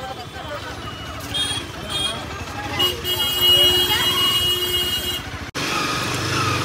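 Congested road traffic with a steady roar of engines and a long horn-like tone blaring in the middle, dense street noise throughout, abruptly cut near the end.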